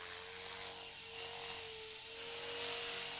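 A Blade 450 RC helicopter's rotor spins steadily in idle up, a constant high-pitched whine over an even mechanical drone, heard close and unbroken, with no one talking.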